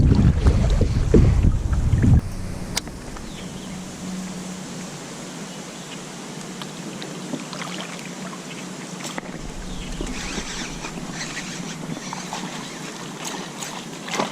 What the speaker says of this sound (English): It's just getting too windy out here